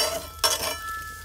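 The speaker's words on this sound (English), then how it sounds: "So I'm scraping off of there." A metal spatula scrapes seasoned rockfish crust off the cast-iron grate of a Lodge Sportsman's Grill in one short, close, rasping stroke.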